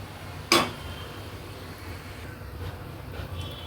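A lid is set on a cooking pot of egg curry with a single sharp metallic clink, then only a quiet background hiss follows.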